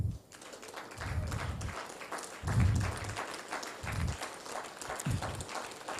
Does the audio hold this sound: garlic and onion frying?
no